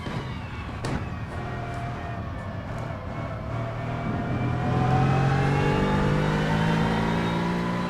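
GT3 race car in Assetto Corsa lapping the Nordschleife, engine droning steadily with rising pitch through the gears, loud and continuous with no talk over it.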